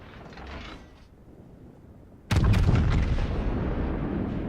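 A heavy battleship main-gun blast in a naval video game booms suddenly and loud after a quiet mechanical rumble, then rolls on as a sustained roaring echo.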